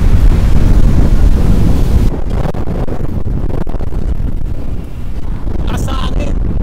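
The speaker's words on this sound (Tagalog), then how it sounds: "Taas ng hangin, pero presko." Strong wind buffets the microphone in a steady, rushing roar, easing slightly midway but continuing throughout.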